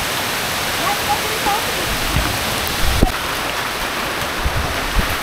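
Steady broadband water rush from a waterfall and river with rain falling, continuous and fairly loud throughout, with faint voices and a few brief knocks and splashes.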